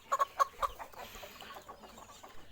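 Young chicks chirp in a few sharp, bright peeps near the start, then softer scattered cheeps fade into the background.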